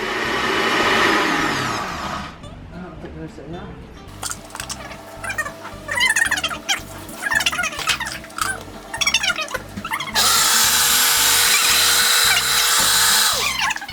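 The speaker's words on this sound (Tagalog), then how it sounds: "And then, blending it up, people." A blender whirs loudly while blending pesto with extra virgin olive oil, running in two bursts at the start and end, with clattering kitchen sounds in between.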